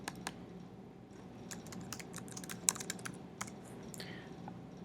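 Typing a new book title on a computer keyboard, a quiet close run of irregular key clicks with short pauses and no voices.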